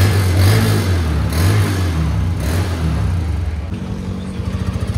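A newly bought, freshly tuned motorcycle engine runs close by. Its loud, steady rumble holds throughout and turns slightly pulsing toward the end, with no voices.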